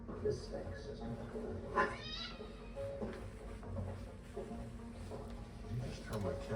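A cat meows and caterwauls, a few drawn-out wavering cries over steady low background noise, with voices speaking at times.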